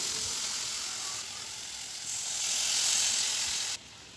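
Hot water poured into a spice paste of cooked masala, cashews and raisins in a hot pan gives a steady, close sizzling hiss that swells midway and then cuts off abruptly.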